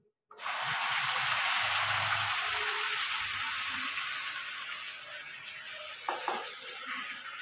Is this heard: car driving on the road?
no